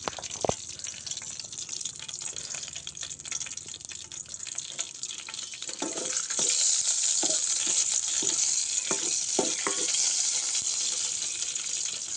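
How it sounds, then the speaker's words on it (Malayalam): Mustard seeds sputter and sizzle in hot oil for a traditional Kerala dish, a steady broadband frying hiss that grows louder midway, with scattered crackles and pops from the bursting seeds; no talking. "ഇത് കടുകൊക്കെ വറുത്ത് ഇട്ട് നോക്കുകയാണ്"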